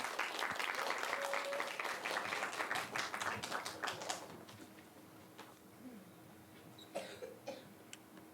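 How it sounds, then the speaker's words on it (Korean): A youth-centre audience applauds as teenage participants and the director come up to the stage, a burst of clapping that thins out midway, with a cough or two and scattered claps trailing off. "박수 한번 부탁드릴게요."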